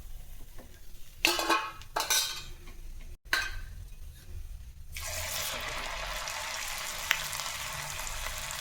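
Kadle puri chakli frying in hot oil, a steady dense sizzle that rises sharply partway through after a few clinks and scrapes of a utensil.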